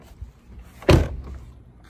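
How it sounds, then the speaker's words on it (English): A car door is pushed shut with one solid thud, close and clear, followed by a short fading rattle in a quiet setting. "I'm gonna close their car door."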